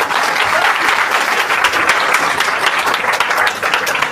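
A seminar audience at an RCM business event in Faridabad gives dense, steady applause. Many hands clap together, loud and sustained throughout without a break.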